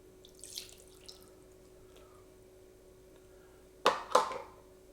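Water poured into a mixing bowl for bundt cake batter, a short splashing pour near the end after a few faint taps and clinks, over a low steady hum in a quiet kitchen.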